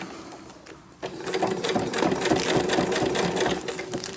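After a brief quiet moment, a sewing machine starts up and stitches a fabric journal cover, a fast, steady mechanical whir with a regular needle beat, close and fairly loud until the end.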